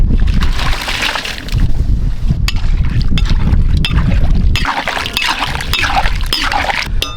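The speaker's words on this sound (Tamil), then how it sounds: "வேக வச்ச வாத்துக்கறியை தண்ணியோட சேர்த்துக்கலாம்" Boiled duck meat and its cooking water are poured into hot curry masala in a pan, a loud close sloshing, splashing pour with a few sharp clinks, continuous for several seconds.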